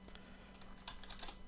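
Keys are pressed on a retro computer keyboard while entering key combinations for BASIC game coding, giving a quiet, irregular run of several close clicks with no talking.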